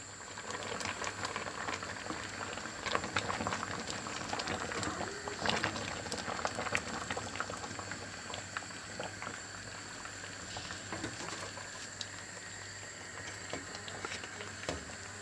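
Watermelon marmalade bubbling in a pot on the stove, a steady soft simmer with faint popping and patter that holds evenly throughout, close and alone with no voices.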